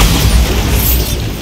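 A Bombarda spell blast in the video game Hogwarts Legacy, a loud, heavy booming explosion with deep rumble filling the short moment.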